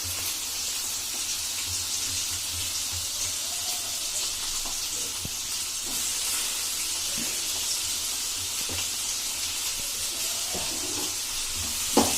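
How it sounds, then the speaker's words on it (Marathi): Onions sauté in hot oil for a bitter gourd (karela) bhaji, giving a faint, even hiss of frying with a few small pops and crackles near the pan and no voices. "कांदा चांगला लाल गुलाबी होईपर्यंत परतून घेऊया"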